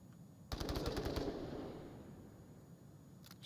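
A rapid burst of about eight automatic rifle shots in the virtual reality shooter Onward, loud and close, followed by a long reverberant tail fading out, then a couple of fainter shots at the very end.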